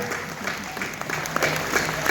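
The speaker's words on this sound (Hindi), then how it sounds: "तालियां तालियां" Audience applause at a Hindi comic poetry recital, a crowd clapping steadily and moderately loud throughout, with faint voices mixed underneath.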